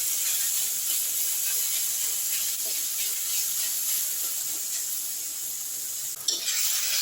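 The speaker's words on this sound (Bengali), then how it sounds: "আবারও আমি মশলাগুলোকে টমেটোর সঙ্গে কষে নিচ্ছি।" Spices and tomato with green chilli sizzle steadily in a pot as they are stir-fried for dal with vegetables, a continuous close frying hiss with faint scraping and one brief clatter near the end.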